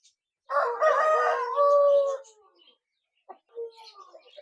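An Aseel rooster crows once, loud and close, a drawn-out harmonic call lasting nearly two seconds, followed by a few softer clucks and short calls.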